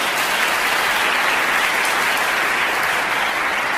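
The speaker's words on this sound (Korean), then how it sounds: "다시 한번 박수 주세요." A concert audience at a violin recital claps in a loud, dense, continuous wash that holds evenly from start to finish, with no speech over it.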